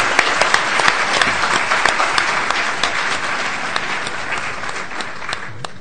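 An audience at a Hindi poetry gathering gives Jayendra Shah a loud, sustained round of applause, many hands clapping densely for about six seconds and tapering slightly toward the end.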